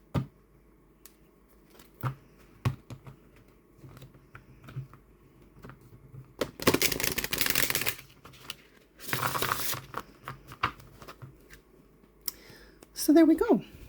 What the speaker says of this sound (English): but they shuffle beautifully.